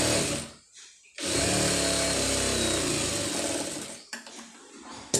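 A sewing machine runs in one long steady burst, stitching down a folded blouse hem over a lining piece, with short pauses at the start and end; close and loud, no talk.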